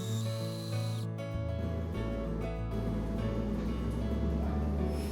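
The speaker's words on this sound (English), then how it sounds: "we're gonna drill this part out first" A power drill bores out a recess for a door hinge in wood while building a custom door, giving a loud, steady whirring drone that shifts pitch as the bit bites in, close and continuous with no talk.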